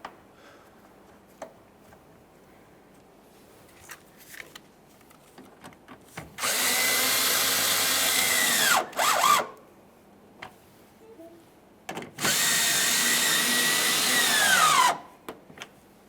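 Power tool driving two bolts into white grille adapters on a 2015-2020 Ford F-150, two loud sustained whirring bursts of about two and three seconds separated by quiet handling clicks.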